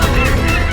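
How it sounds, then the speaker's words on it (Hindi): A whole flock of honking geese or similar large birds approaching, a loud, dense and continuous chorus of calls filling the moment, with no speech. "पक्षियों का समूचा झुंड आ रहा है।"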